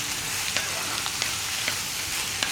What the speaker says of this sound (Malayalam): അപ്പോൾ ഞാനെല്ലാം ഒരുമിച്ച് ചേർത്തിട്ടാണ് വഴറ്റി കറിയാക്കുന്നത്.